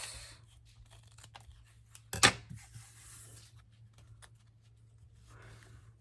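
Scissors trim fabric for a handmade journal. Light rustling and snipping lead up to one sharp, loud close cut, followed by quieter handling and rubbing of the cloth.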